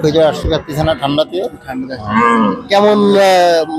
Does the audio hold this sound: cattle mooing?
yes